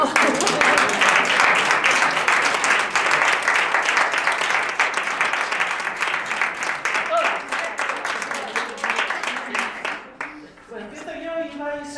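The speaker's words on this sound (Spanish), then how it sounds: "Bueno, un aplauso te merece." An audience at a poetry reading claps in sustained, dense applause that stays loud for about ten seconds and then fades out, followed by a voice speaking.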